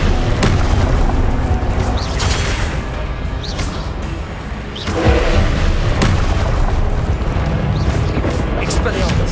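Repeated Confringo fire-spell blasts from Hogwarts Legacy on PS5 boom through a dense, loud mix of combat effects and spoken spell incantations, with a heavy impact near the midpoint.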